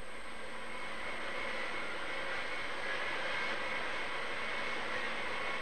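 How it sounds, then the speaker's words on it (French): A Harrier jet, its special engine thrust directed at the ground, hovers with a constant, broad roar and steady high whine that hold at an even loudness throughout. "C'est un réacteur spécial dont la poussée est orientée vers le sol qui le maintient en vol stationnaire."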